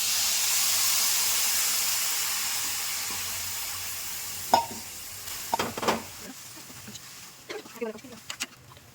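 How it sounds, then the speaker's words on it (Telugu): Boiled chana dal goes into a hot pan of oil, bringing a fading sizzle followed by sharp spoon scrapes and clatters as it is stirred, with a voice talking quietly at the edges. "ఇప్పుడు ఈ శనగపప్పుని మనం వేసేద్దాం."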